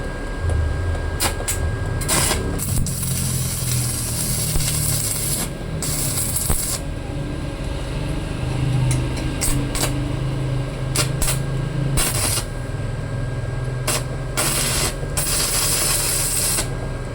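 Stick welding with a welding rod on a VizTëch gasless MIG inverter welder rated 270A, a loud, continuous crackling arc with intermittent bursts of sharper hiss and no talking.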